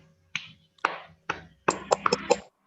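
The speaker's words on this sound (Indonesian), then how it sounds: "Tepuk tangan untuk teman kita Ridwan." Short claps for a classmate named Ridwan in an elementary school classroom: three single claps, then a quick burst of several more, fairly close and crisp against a quiet room with no talking.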